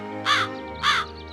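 Two loud, harsh caws from a crow in a cartoon, spaced about half a second apart, standing out clearly over a faint steady background hum.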